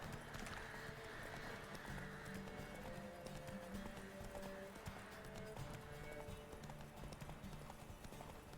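Rapid, rhythmic hoofbeats of a galloping horse in The Witcher 3: Wild Hunt drum on without pause, layered over soft tonal background music.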